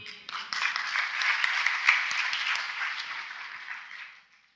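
Audience at a Christian seminar breaks into applause, the clapping swelling quickly, holding steady, then fading away at the end.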